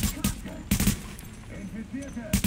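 Bursts of gunfire in Tom Clancy's The Division, aimed at a tank: several sharp cracks in quick clusters, fairly close, with someone talking between the shots.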